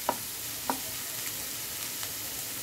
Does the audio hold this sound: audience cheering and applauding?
no